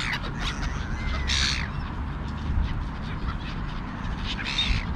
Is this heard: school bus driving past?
no